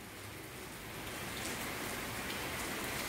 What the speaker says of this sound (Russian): В принципе, дождь идет сегодня на Крите с утра.